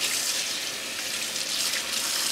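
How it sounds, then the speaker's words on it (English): Running tap water rinses a Shark Rotator Professional vacuum filter, a steady broadband splashing and gushing stream heard close and continuous throughout, with no talking. "make sure you rinse it thoroughly"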